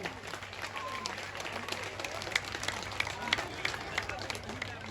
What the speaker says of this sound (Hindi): एक जोरदार तालियों से स्वागत होनी चाहिए।